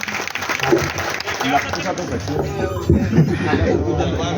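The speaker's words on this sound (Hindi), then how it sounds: "एक बार इनके लिए ताली बजा दीजिए।" An audience at a Hindi poetry recital claps for the event's host, a steady wash of applause with voices and some chatter mixed in throughout.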